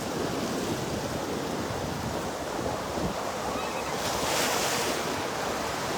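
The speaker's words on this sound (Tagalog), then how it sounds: "maalon kasi may bagyo sa ibang lugar" A continuous wash of ocean surf at Boracay, stirred up by a distant storm, steady and broad, with waves rolling in under a light hiss of wind.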